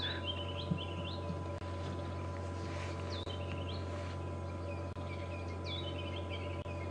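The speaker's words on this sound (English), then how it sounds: "That could be a white-browed scrub robin." A white-browed scrub robin repeats short, bright whistled phrases at moderate distance in the African bush at Djuma Game Reserve, over a low steady vehicle hum.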